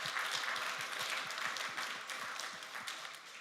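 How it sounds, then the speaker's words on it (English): Conference audience at a NixCon 2025 talk giving a short round of applause, a soft, fairly distant wash of clapping that fades slightly over a few seconds. "Yeah, round of applause."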